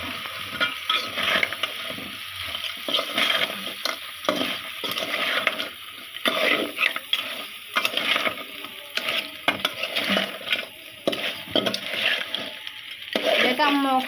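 Crab curry stirred in a pan gives repeated scraping and sizzling strokes in an uneven rhythm, close and fairly loud, with some background voices.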